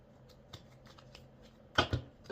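Tarot cards shuffled by hand: faint scattered riffles and taps, then a louder burst of two quick close riffles near the end, with no talking.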